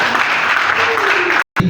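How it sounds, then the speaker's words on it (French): At a youth meeting, an audience claps for the brothers, a brief burst of applause mixed with voices, cut by a short gap near the end before the noise resumes. "Est-ce qu'on peut applaudir pour les frères?"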